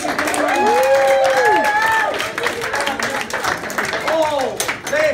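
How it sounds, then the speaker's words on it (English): A wedding crowd at The Forest of Arden Hotel claps and cheers during a magician's finale, with loud whoops and voices rising over the applause. "All this applause is for you!"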